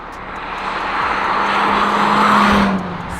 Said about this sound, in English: Sitting in this car, driving down the country road